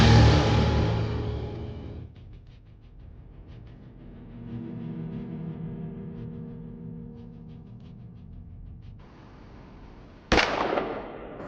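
Gunshot fired in an execution booth on a reality show set: a loud blast at the start decays over a couple of seconds, followed by a quiet hum, then a second sharp bang near the end.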